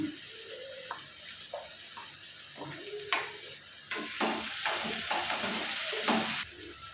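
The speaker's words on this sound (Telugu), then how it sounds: "ఇప్పుడు మెంతం కూర వేస్తున్నాము, కొంచెం ఫ్రై అయితే చేస్తాను" Fenugreek leaves and green chillies fry in an oiled pan for a methi chicken curry, giving a steady sizzle broken by repeated scraping stir strokes, close and fairly loud, with no talking.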